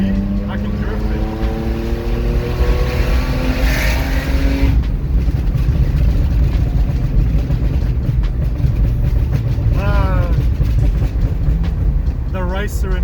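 A BMW E46 with catless headers and the secondary air pump deleted, accelerating at full throttle, a loud raw engine roar rising in pitch through the gears with a voice briefly over it, heard close from inside the car.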